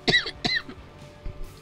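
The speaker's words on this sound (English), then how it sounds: "I had to cough there real quick." A single close cough from a man playing The Binding of Isaac: Afterbirth, a sharp burst followed by a second shorter cough and a faint throat sound, quiet room otherwise.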